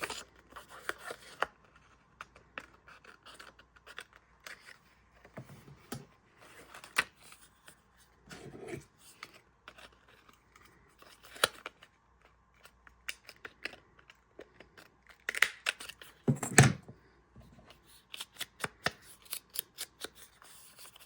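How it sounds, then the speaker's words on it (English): Scissors trimming a fabric pocket panel for a folio, with scattered close snips and crisp cutting crunches between quiet pauses, the snips growing denser near the end. "So let's just trim this."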